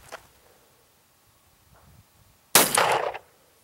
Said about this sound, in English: the first round that you're going to hear is going to be a small pistol primer